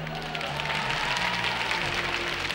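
Applause from a live concert audience at the Salle des fêtes de Thônex in 1972. A dense, sustained wash of clapping fills the room, over a low tonal hum.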